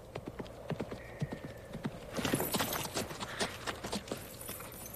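Horse hooves clip-clop in sharp, irregular beats near a small yurt, with the horse's tread growing busier and louder midway and a brief whinny-like tone early on, no talking.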